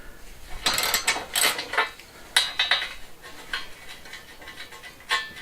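Socket wrench ratcheting on metal parts in a workshop, heard as a series of sharp metallic clicks and clattering bursts in uneven clusters, close and moderately loud, with no talking.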